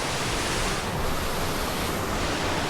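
Steady, loud roar of a waterfall in the Ottawa National Forest, a dense continuous rush of falling water filling the whole clip with no pauses.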